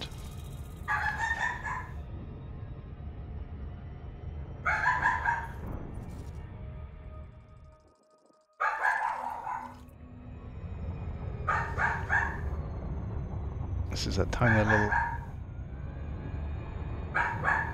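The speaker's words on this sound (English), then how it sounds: "Dog starting again." A dog barks in repeated short, harmonic bursts every few seconds, moderately close, while someone talks over a steady low hum.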